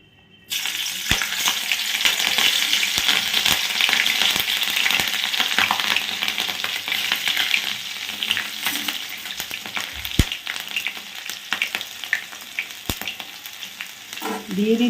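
Chillies frying in hot white oil in a pan for chilli broccoli, a loud continuous sizzle and crackle from start to end, with occasional stirring clinks and scrapes against the pan.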